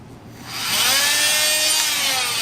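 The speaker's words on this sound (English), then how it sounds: "on the FEIN there is a little lag in the startup time" A FEIN MultiMaster oscillating tool spins up after a short lag, its buzzing whine rising and then holding steady and loud at close range.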